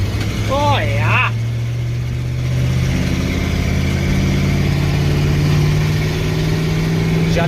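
An old four-wheeler ATV engine idles steadily and close by, a low mechanical drone with slight fluctuations throughout, while a voice briefly speaks over it near the start.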